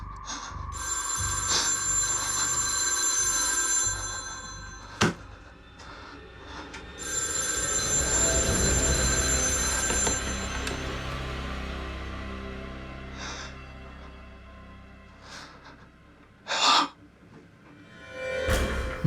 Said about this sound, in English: The phone was sitting on the counter and ringing.